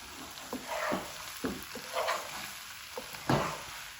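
A spoon scrapes and stirs coriander powder through okra sizzling steadily in a pan, with several distinct scraping strokes, close and alone.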